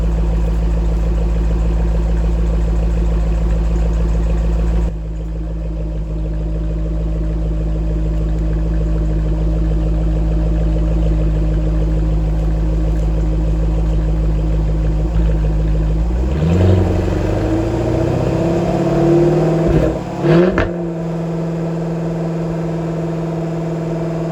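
A Jaguar F-Type engine held at raised revs during a charging system check gives a loud, steady, close engine drone, then revs shift up and down with rising and falling pitch before settling back to an even idle.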